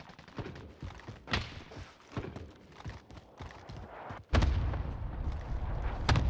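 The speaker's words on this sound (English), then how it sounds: "Allied cluster strike inbound." A Call of Duty Warzone cluster strike lands as a rapid string of sharp explosive cracks and thumps, then gives way to a loud, sustained rumbling roar.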